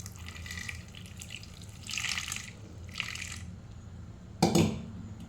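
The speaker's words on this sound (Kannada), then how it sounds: "ಅಂಬಟೆಯ ಜೊತೆಗೆ ಸ್ವಲ್ಪ ನೀರು ಹಾಕಿ" Water is poured into a cooking pot holding ambate fruit, coming as a few short, soft splashing bursts over a quiet background, ending in one brief, louder pour near the close.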